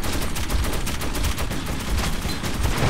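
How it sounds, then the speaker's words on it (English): Sustained rapid gunfire from a gun in the Metro 2033 Redux video game pounds continuously at close range, a steady, dense stream of loud shots with no talk over it. "This gun can keep shooting as long as it doesn't overheat."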